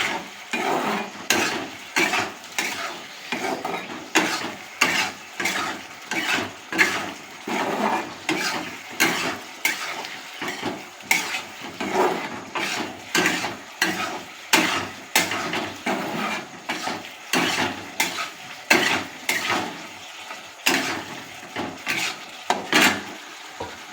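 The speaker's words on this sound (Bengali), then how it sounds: "এবার একটু ভালো করে একটু নেড়ে নেব।" Egg potato curry is stirred in a pan in a long run of steady, rhythmic scrapes and knocks over a soft sizzle, close and continuous without speech.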